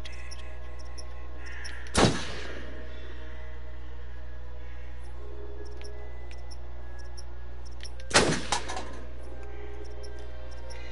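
Two sharp, loud gunshots fired in the horror video game Until Dawn, spaced several seconds apart over a steady low background hum, with no talking.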